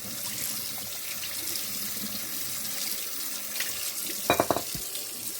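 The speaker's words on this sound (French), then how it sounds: "Et après, vous faites couler l'eau, de l'eau claire." Clear tap water runs steadily into a sink in a continuous hiss and splash, with a few sharp knocks and clatters near the end.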